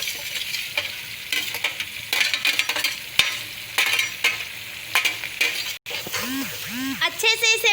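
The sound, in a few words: stirring taro (arbi) frying in a pan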